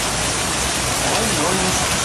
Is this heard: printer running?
no